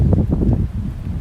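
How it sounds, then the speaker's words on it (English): Strong wind buffets the microphone on a rainy day at Epcot, a loud continuous low rumble and rustle with no speech. "it is so windy right now"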